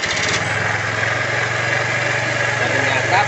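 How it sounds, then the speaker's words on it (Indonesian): A freshly rebuilt Honda Vario 110 scooter engine runs at idle just after starting, giving a steady, close, even putter with a faint rhythmic pulse. "kita akan tahap tes hidupkan bunyi mesinnya seperti apa"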